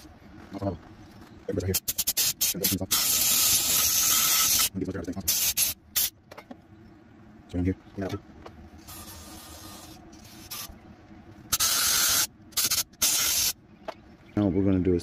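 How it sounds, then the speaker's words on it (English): Carburetor cleaner sprayed through the jets and passages of a 5 HP Briggs & Stratton engine carburetor: repeated loud bursts of hissing spray, some long and some short, separated by quiet gaps, with faint handling noises between. "Carburetor cleaner."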